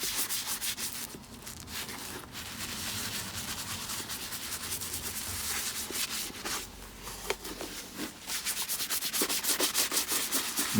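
Brush scrubbing ingrained dirt off unpolished leather shoes, continuous rapid bristly strokes close up, steady and moderately quiet with no voices.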